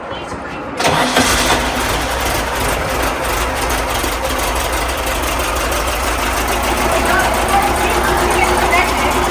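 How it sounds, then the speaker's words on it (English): An air-cooled VW Baja Bug engine, just started after sitting almost a year, settles into a steady, loud idle that runs close and continuous through the whole stretch. "This engine hasn't started in what? Almost the entire year. She started right up."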